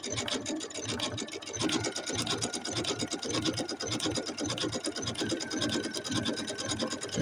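A Janome Skyline S7 sewing machine stitches appliqué along a fabric edge, giving a busy, rapid mechanical chatter of needle and feed. The sound is close and continuous, with no speech.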